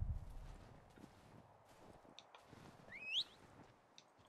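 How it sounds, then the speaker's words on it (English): Faint, soft hoofbeats of a saddled horse in Assassin's Creed III, a quiet uneven clip-clop drawing nearer, with a brief bird call over it. "Is that my horse or just like a random horse?"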